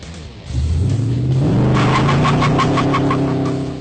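Rebuilt Mad Max Interceptor car engine pulls away and accelerates, a deep rumbling drone rising in pitch through the gears, loud and close throughout.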